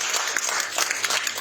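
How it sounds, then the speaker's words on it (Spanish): A church congregation applauding: a short burst of dense, even clapping from many hands in a large room, moderately loud. "vamos a dar un aplauso al Señor por todos ellos."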